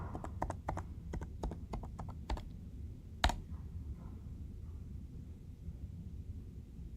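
A password is typed on a computer keyboard, about a dozen quick, light key clicks over two seconds followed by one sharper tap, then quiet room hum.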